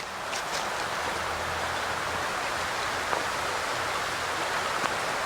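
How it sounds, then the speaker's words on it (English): A sizable creek fed by a natural spring at Boiling Springs, Pennsylvania, rushing in a steady broadband wash with no pauses, fairly close and moderately loud, with no voices. "I mean, this is a pretty decent sized creek down here."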